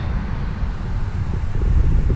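Wind buffeting the microphone on a mountain bike trail, a continuous low rumbling roar that swells slightly toward the end, with no other sounds standing out.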